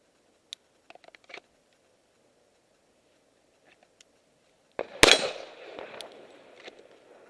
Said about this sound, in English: But I'm shooting at a 6-inch target.